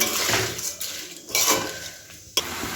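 A metal utensil scrapes and clanks against a wok in several uneven strokes, close up, ending with a sharp clink.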